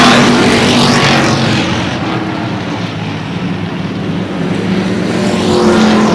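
The number 55 race car circling Lee Speedway in New Hampshire during a race, a loud, continuous engine roar that swells near, dips slightly as it moves off, then builds again.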